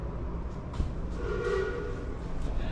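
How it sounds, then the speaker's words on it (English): A steam traction engine rumbles past outdoors near a garden, giving a steady loud low chugging drone with a faint whistle-like tone partway through. "I thought it was a steam train. It's not. It's a traction engine."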